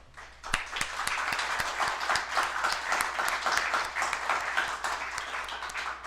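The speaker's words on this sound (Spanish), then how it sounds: "Un aplauso, por favor" Auditorium audience at a medical session on orthogeriatrics breaking into applause, rising from a quiet start into sustained clapping with a few sharp nearby claps standing out, then easing slightly at the end.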